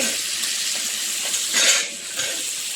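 Chicken frying and sizzling in a pan while being stirred, a steady close hiss with scraping and a brief louder swell of sizzle midway, no talking.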